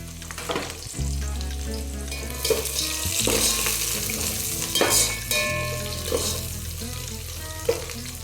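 Green chillies fry and sizzle in hot oil in a pan while making a sweet corn pulao, a steady close crackle that carries on throughout, with occasional stirring clatter and no speech.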